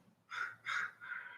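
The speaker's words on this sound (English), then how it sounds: "As you can hear the crows in the background" Three crows caw in the background, each caw harsh and drawn out with short gaps between them, fairly faint and distant with no voices over them.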